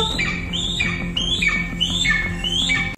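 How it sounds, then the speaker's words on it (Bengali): A black kite squawks again and again as it flies off, each shrill, descending cry loud and close, following one after another in a steady series with no voices. "কাগজের পাখিটাকে নিয়ে চিলটা তো আবার আকাশের দিকে উড়ে যেতে থাকলো।"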